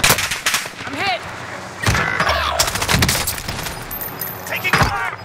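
Automatic gunfire in the Warzone video game from an FARA 83 rifle setup: loud, rapid bursts and overlapping shots crackle in a dense battle mix, with game voice callouts and player speech running over it.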